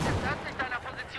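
Grenades explode on a rooftop in Battlefield 4, a booming blast followed by a rumbling decay and scattered crackling debris, loud and close.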